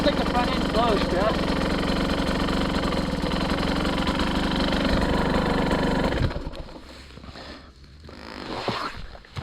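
Off-road motorcycle engine roaring steadily on a fast trail ride, loud and close for several seconds, then cutting back sharply to a quieter rumble, with people talking over it.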